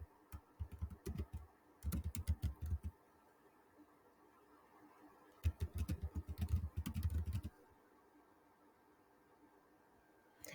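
Bursts of typing on a computer keyboard while entering an Instagram account name, two dense flurries of rapid keystrokes separated by quieter pauses with a few isolated taps, close and clear against a quiet room.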